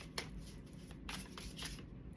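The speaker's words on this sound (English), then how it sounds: "That whole time I was shuffling, right?" A deck of reading cards being shuffled by hand, faint soft riffling and papery slaps in a few quick bursts against a quiet room background, no talk.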